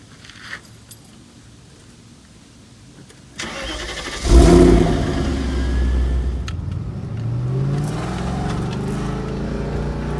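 BMW E39 sedan starting after a short key jingle: a sharp cranking catch near the middle, then the engine settles into a steady, close, rumbling idle with a slight rev.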